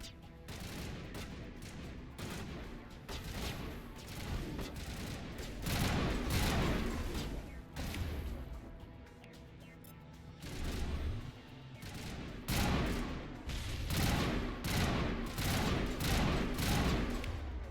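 Burst-weapon gunfire from a first-person shooter video game crackles in repeated short volleys across the whole stretch, loud and close, with blasts and impacts layered in.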